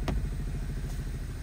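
Idling car engine misfiring on cylinders one and four, a rough uneven low throb with a lumpy pulsing rhythm, close and steady, with a brief click near the start.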